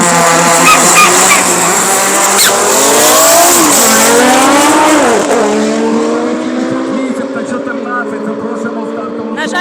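Drag race run between an Audi and a BMW at an Odesa drag racing event: loud, close engines rev and climb through gear changes with tire squeal, holding steady before the roar fades slightly toward the end.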